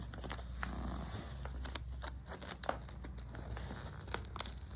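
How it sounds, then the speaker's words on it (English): Velcro strips on a Ford F-350 seat cover side piece being pressed and pulled into place, a steady crackling, ripping texture with repeated sharp tearing bursts, close up and alone. "The Velcro."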